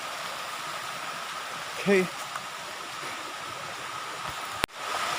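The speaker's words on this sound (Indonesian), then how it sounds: "Tuh air terjunnya di atas sana guys." A waterfall in the Pacitan countryside roars as a steady, broad rush of falling water, heard at some distance and filling the whole moment, while a voice briefly speaks over it.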